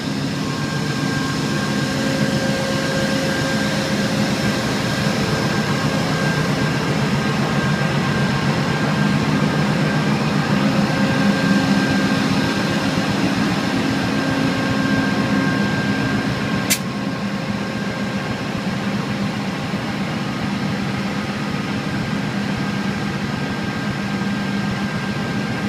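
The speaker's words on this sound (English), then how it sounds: "this is Amtrak train 1761, the Pacific Surfliner with Amfleet Horizon equipment today, getting ready to depart from San Luis Obispo" An Amtrak Pacific Surfliner train with Amfleet Horizon cars and a Genesis locomotive idles before departing San Luis Obispo, giving a steady low engine drone with a constant hum throughout.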